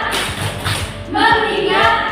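A classroom of children doing a rhythmic clapping chant, with steady sharp claps in a repeating pattern and young voices chanting along in a room.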